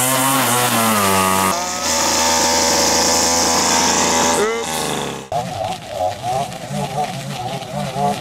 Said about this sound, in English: Grandpa trusted him with a weed whacker.